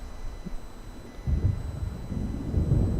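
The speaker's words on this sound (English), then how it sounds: "It seems there's a storm coming." Thunder rumbling from an approaching storm in the video game Alan Wake, a low distant roll that swells after a quiet stretch and stays heavy to the end, with no voices.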